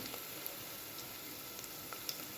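Mustard seeds, cumin, curry leaves, dry red chillies and crushed garlic sizzle quietly in oil and ghee for a festival tempering, a faint steady crackle with a few sharp pops.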